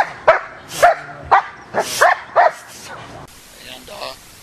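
A police dog, likely a German Shepherd, at K9 training barks about five times in sharp, evenly spaced bursts, loud and close, then trails into softer whimpering yips.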